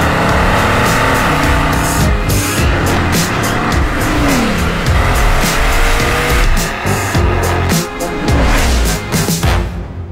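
A modern-day Bugatti race car roars loudly and continuously, its engine revving and shifting as tires squeal, sustained and close for the whole stretch.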